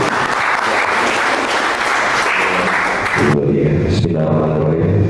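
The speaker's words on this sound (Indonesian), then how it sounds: "kita beli aplaus untuk Bang Haim Nabil" Audience applause at an Indonesian national dialogue panel event, dense sustained clapping from a crowd that thins into scattered claps near the end.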